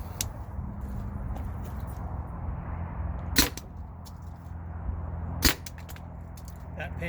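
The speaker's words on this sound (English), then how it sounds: "I'm gonna start firing again." Byrna TCR less-lethal launcher firing at bottles: two sharp, loud cracks a couple of seconds apart over steady low outdoor rumble.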